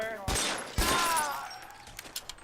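Gunshots in the detective game L.A. Noire, two sharp close shots a half second apart, each ringing out before fading into quieter game sounds.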